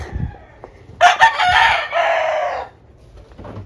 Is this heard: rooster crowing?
yes